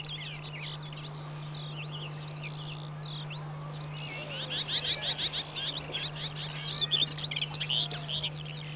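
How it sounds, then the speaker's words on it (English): Common whitethroat warblers sing from scrub and bushes, scratchy chattering phrases repeating and growing busier and louder toward the end, over a steady low hum. "This delightful Sylvia warbler can be heard singing wherever there is a suitable area of scrub and bushes"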